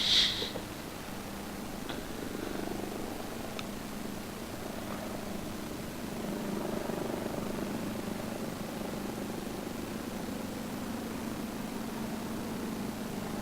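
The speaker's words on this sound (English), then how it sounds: "Sounds like a helicopter again." Helicopter rotor and engine drone in a flight simulator game, a steady broadband whir that holds continuous and fairly even throughout, with no talk over it.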